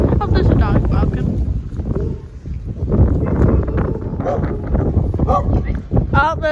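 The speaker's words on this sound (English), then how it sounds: "Oh, there's another dog barking." Dog barking outdoors in a 50 mph windstorm, a few barks mixed into loud roaring wind buffeting the microphone, with a person talking over much of it.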